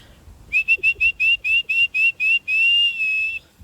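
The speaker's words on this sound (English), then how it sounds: "Let's whistle for Molly, see if she comes back." A series of short, sharp whistle blasts by a person calling a dog, in quick succession, followed by one longer sustained whistle, clear and fairly loud over faint outdoor background.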